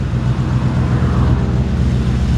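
A 1952 Ford F1 truck engine idles with a loud, steady low rumble, close and continuous with no talk over it.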